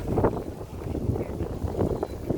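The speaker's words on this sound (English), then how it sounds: "Now it's windy over here because we're by the lakefront" Gusty wind off the Chicago lakefront buffets the microphone with low rumbling bursts, a moderate outdoor roar with no clear speech.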